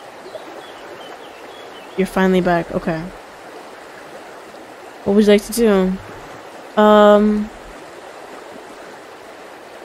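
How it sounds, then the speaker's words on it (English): A creek in the countryside gives a constant broadband rush of flowing water that runs the whole way through, with a few short spoken phrases breaking in over it. "After a while, you can hear it. Roaring water. It's the creek."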